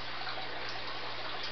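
Water swishes and sloshes steadily as eggs are rinsed from the mouths of female tilapia, a faint, continuous close gush with no talking.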